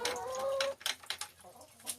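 Hens from a newly arrived flock, hatchery birds from Arkansas, cluck and call close by in Sweeney, a drawn-out call followed by short scattered clucks.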